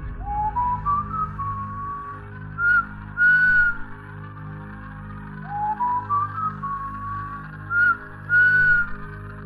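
Two rising, melodic whistled phrases repeated in turn while walking through fog at night, clear and fairly close, with a low steady hum of ambience underneath and no talking.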